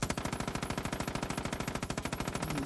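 Rapid automatic gunfire from the video game Far Cry 5, a fast, evenly spaced stream of shots running continuously for the whole stretch at moderate level.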